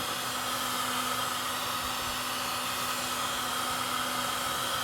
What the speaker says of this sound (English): using a heat gun like this and speeding up the process